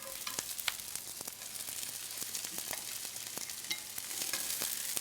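Bean sprouts stir-fried in a frying pan give a quiet continuous sizzle, broken by soft scraping and clicking as they are tossed and stirred.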